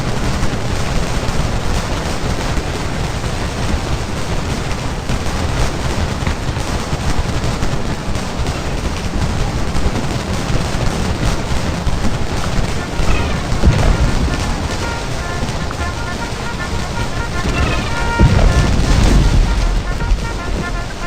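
Civil War battle in the game Scourge of War: Gettysburg, with a constant loud crackle of massed musket fire and artillery rumble, and a deeper boom swelling near the end.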